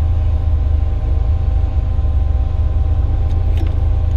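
An off-road rig's engine rumbles loud and steady on a muddy ledge, a deep continuous drone with no clear rises in revs and no talking.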